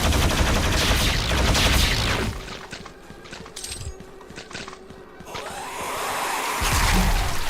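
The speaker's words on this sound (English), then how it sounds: "So it's the plasma rifle." Plasma rifle in the video game Quake firing a rapid rattling stream of shots for several seconds, fairly loud and close, set between denser game noise and ambience, without talk.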